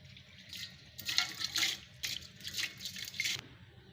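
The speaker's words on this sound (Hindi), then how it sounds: "2 गिलास पानी ऐड करेंगे। ये दूसरा गिलास है।" Water from a glass is poured into a pot to boil rice for kheer, several splashing bursts in a row, close and alone without speech.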